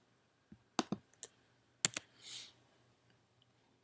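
Computer keyboard keys tapped while working in CAD drawing software, a handful of sharp close clicks in small clusters with a longer keypress near the middle, quiet pauses between.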